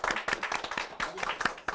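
An audience at a book forum gives brief, close applause, a quick burst of overlapping hand claps lasting under two seconds.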